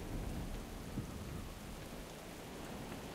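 Steady in-game rain ambience from World of Warcraft's Maelstrom zone, a dense hiss of rainfall with low rumbling undertones like distant thunder, continuous and fairly quiet with no voices.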